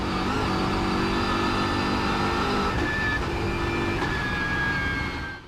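A race car engine screams on an onboard pole lap at the Nürburgring 24 Hours, holding a loud, sustained high-revving note with shifting pitch from start to finish and no talk over it.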